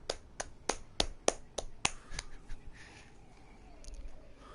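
Applause at the moment a platinum trophy is earned in the snowboarding game Steep: roughly seven sharp, close claps in an uneven rhythm that taper into faint room noise.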